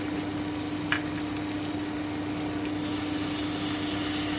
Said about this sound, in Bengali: আমি এবারে খুব ভালো করে একটু চকিয়ে নিচ্ছি মশলাটা